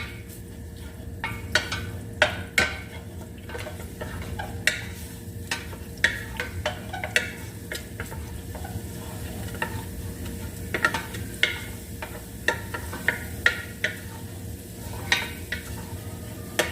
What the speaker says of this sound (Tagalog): Gisahin na natin.